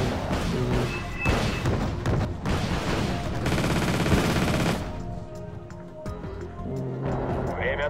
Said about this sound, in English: He's basically gonna do a saturation barrage.